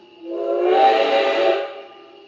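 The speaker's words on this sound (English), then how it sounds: "We can have the short whistle turned on" A Blunami-equipped Rio Grande F scale (1:20.3) model train sounds one steady steam whistle, clear and fairly loud, lasting just over a second on its own.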